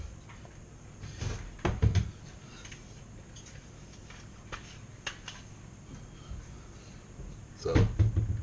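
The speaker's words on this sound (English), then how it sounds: "I'm going to cover this bad boy up. And stick her on in the oven" A lid clatters onto a pan, followed by the scrape and clunk of the pan going into an oven, with two sharp metallic knocks early on and another near the end amid quiet kitchen ambience.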